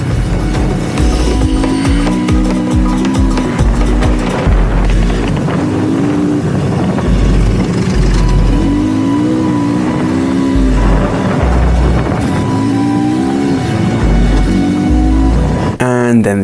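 KTM 450 enduro motorcycles race along dusty quarry roads in Morocco, engines revving and shifting through rising and falling pitch, loud and close with wind buffeting the microphone throughout.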